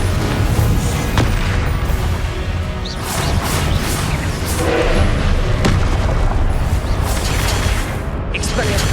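Confringo spell explosions in the video game Hogwarts Legacy, several loud booming blasts and crashes spread over the stretch, mixed with spell casting and voices.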